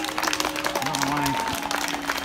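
An audience at a gathering claps in a short, scattered burst of close applause, with voices and other crowd noise mixed in.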